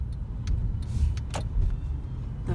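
Road traffic heard from inside a moving car heading down a road near Bejuco, a steady low rumble of driving with a few brief clicks and rattles, no talk.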